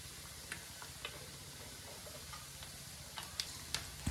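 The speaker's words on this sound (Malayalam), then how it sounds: "മറ്റൊരു പാത്രത്തിലേക്ക് ഓയിൽ ഒഴിച്ച് ചൂടാവുമ്പോൾ 1/2 ടീസ്പൂൺ കടുക് ഇട്ട് കൊടുക്കാം." Mustard seeds heat in oil in a pan while making anchovy pickle. A faint low hiss is broken by sparse ticking pops that grow more frequent and louder toward the end.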